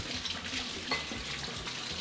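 Running tap water while hands are washed at a kitchen sink, a soft steady splashing and trickling, fairly quiet and close, with no talk.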